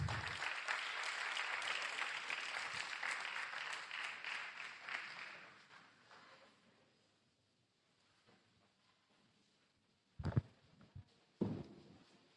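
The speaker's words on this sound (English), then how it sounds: "he deserves another round of applause" Applause at a professional association's annual general meeting and scientific conference in Lagos, a steady crowd clapping for several seconds that fades to quiet, followed by a few brief knocks or footsteps.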